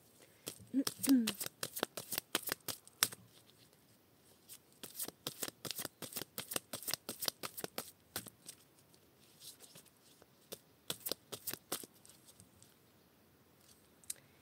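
A deck of tarot cards being shuffled and cut, rapid crisp riffling bursts repeating close up, with a brief voice early on.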